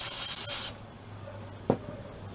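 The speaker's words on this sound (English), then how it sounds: "Let's spray this real quick over here." Carburetor cleaner sprayed onto the carburetor of a 12 hp Murray lawn tractor: one steady, loud hissing burst lasting most of a second, then stopping, followed by a quiet room with a faint hum and a brief clunk.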